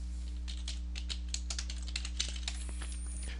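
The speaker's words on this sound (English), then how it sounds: "I can type a title," Fingers tap out a title on a computer keyboard, a quick run of light, close clicks in uneven rhythm over a faint steady hum.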